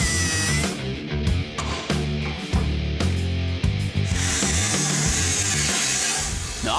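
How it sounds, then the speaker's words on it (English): A 3-inch cutoff wheel grinds through a steel truck bed frame on a Squarebody pickup. The harsh, loud abrasive whine runs almost continuously, with brief dips as the cut pauses. "to make room for our new lowering shackles, we have to notch part of the bed frame. And to do that, I like to use the 3-inch cutoff wheels"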